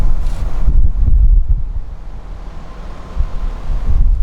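Air rushing steadily out of a Pioneer ductless mini split AC installed in a Houston garage: a loud, continuous broadband whoosh with a low rumble and no distinct motor tone.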